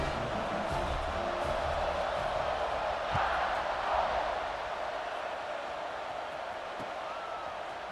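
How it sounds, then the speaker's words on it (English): A dense stadium crowd roars and buzzes steadily at a college football game in EA Sports College Football 26, a broad wash of distant cheering with brief swells, under faint commentary. "this crowd is buzzing after that last score"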